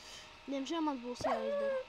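A dog in the Minecraft video game gives two brief whining whimpers close by, while someone talks over them.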